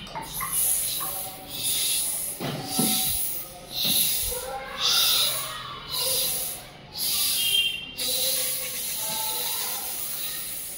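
A human voice imitates jingling ankle bells with a run of breathy, hissing bursts in a steady rhythm, about one per second, close and moderately loud, with some talk mixed in.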